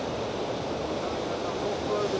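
Ocean waves at Cardiff make a steady, broadband wash of surf with wind rushing over the microphone. The roar stays constant and fills the background, with no clear speech.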